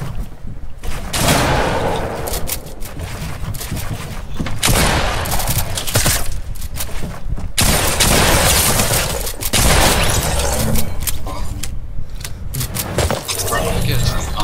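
Rapid SMG fire in a video game, dense bursts of shots and booms filling most of the stretch with brief gaps, loud and close, with voices talking over it.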